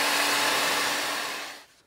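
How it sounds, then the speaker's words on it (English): A blow dryer runs loud and close with a steady, breathy roar while drying watercolor paint, then cuts off and winds down to silence near the end. "I used a blow dryer just to kind of speed the process up a little bit"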